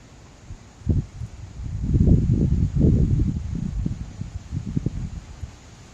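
Strong gusts of wind buffet the microphone on a salmon-fishing outing in Finland, a steady low roar rising and falling in waves for several seconds with no talk.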